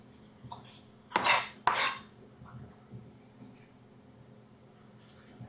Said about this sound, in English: I'll put this in my bowl